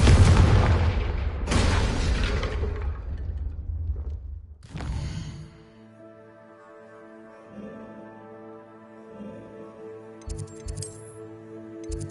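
A Confringo blasting spell explodes in a Hogwarts video game: a loud booming blast with a second burst about a second later, rumbling for several seconds before fading under quiet background music.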